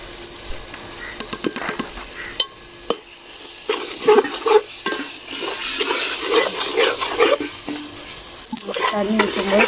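Paneer biryani masala sautés in a pot, with loud, close stirring scrapes and clatter over a growing sizzle that becomes steadier and louder toward the end.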